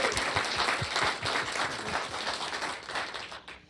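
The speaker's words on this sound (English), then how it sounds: "Can we give him a round of applause?" Loud audience applause fills a county board of commissioners meeting, with a few sharp individual claps standing out near the front before the clapping gradually thins toward the end.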